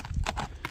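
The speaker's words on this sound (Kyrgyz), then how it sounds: "ушул атты көрсөңүздөр болот" A horse offered for sale walks nearby, its hooves striking the ground in a quick, close clip-clop of a few beats within under a second.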